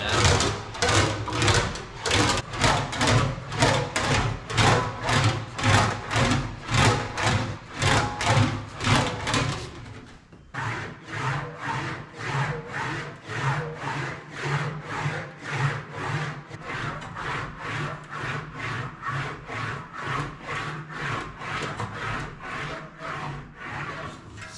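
Rhythmic rolling and rasping strokes of metal panel worked back and forth through an English wheel, smoothing hammer marks on a Jaguar E-Type bonnet, steady and close, pausing briefly midway before resuming.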